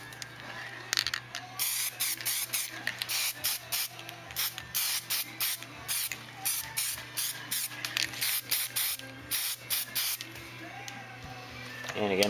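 Repeated short bursts of aerosol spray lay a light coat of sandable primer onto a 1/1400-scale Enterprise model, a rhythmic hiss of brief pulses close to the microphone with faint background hum.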